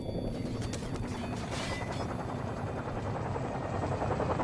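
Helicopter in the video game Call of Duty 4: Modern Warfare, a steady low rotor drone filling the low end throughout, with faint bursts of gunfire early on.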